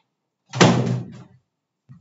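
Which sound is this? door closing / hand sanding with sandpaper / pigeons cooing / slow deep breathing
door closing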